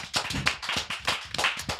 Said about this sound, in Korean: 박수부터 치고 시작하겠습니다